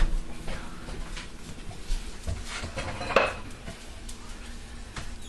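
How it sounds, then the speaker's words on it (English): A bowl is pulled from a kitchen cupboard, giving one sharp clink of crockery against a faint background of soft kitchen clatter. "I'm going to grab a bowl out of the cupboard."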